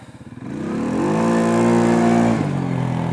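CFMOTO CFORCE 500 ATV on 30-inch tires with stock clutching and no lift kit, revving for a wheelie: the engine pulses at idle, then climbs to a loud sustained high-rev whine before dropping off sharply near the end.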